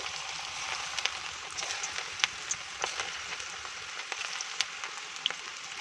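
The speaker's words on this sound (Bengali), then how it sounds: "এবার আমি পকোড়াগুলো ছেড়ে ভেজে নেব" Cabbage pakoras fry in hot oil in a kadai over a medium gas flame, giving a steady close sizzle scattered with sharp crackles and pops, with no voices.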